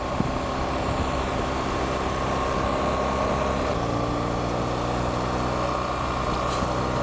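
A continuous BMW R 1200 GS Adventure motorcycle engine roar holds steady at high revs, working hard under load without pause on tight twisty roads.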